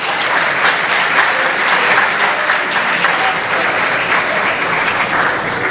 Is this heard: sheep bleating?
no